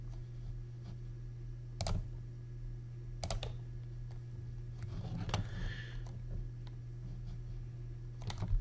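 A handful of sparse, faint keystrokes sound on a computer keyboard as a network name is typed in, scattered clicks over a low steady electrical hum with no talking.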